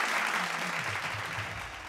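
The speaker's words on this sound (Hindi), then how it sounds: "बहुत अच्छे, जोरदार तालियां" Audience applause during a Bhojpuri television game show, a brief burst of steady, fairly distant clapping that slowly fades, with no talk.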